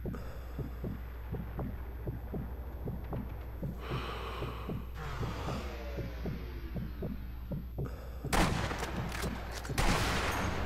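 Rifle fire in the sniper video game Sniper Elite V2 comes as a heavy, punchy shot near the end, preceded by a slow throbbing heartbeat effect and steady hum while aiming, with a second burst closing the scene.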